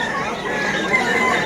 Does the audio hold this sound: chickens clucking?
yes